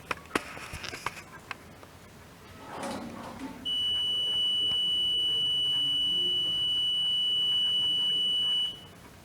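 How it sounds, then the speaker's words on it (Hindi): A single long electronic beep from an electronic voting machine confirming a vote cast during a mock poll, a steady piercing tone lasting about five seconds after a few clicks and rustles. "बीप की आवाज आएगी, इसका मतलब है कि मतदाता का मत कास्ट हो चुका है।"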